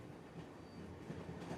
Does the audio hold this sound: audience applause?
no